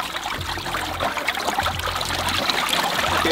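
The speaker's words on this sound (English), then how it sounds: "I'm just going to drop it into the sump now. Okay, you can see it working." Float-activated puddle pump dropped into a sump, discharging water in a steady trickling, splashing stream with a low motor hum pulsing underneath, close and moderately loud, no speech.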